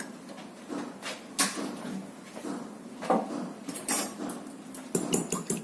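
Two eggs are beaten in a bowl without salt, heard as close, uneven clinks and taps of utensil on dish with a few louder knocks, at a fairly quiet level.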